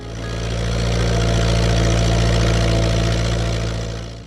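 A Massey Ferguson 35 tractor engine runs with a steady, loud low drone that swells in and fades out, a continuous mechanical hum with no voices.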